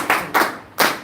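Three distinct hand claps, close and fairly loud, spaced unevenly with short pauses between them, at a Purim gathering.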